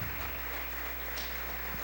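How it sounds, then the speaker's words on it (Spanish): A church congregation applauding for the Lord, a continuous, fairly quiet and distant patter of many hands clapping. "Dele fuerte ese aplauso al Señor."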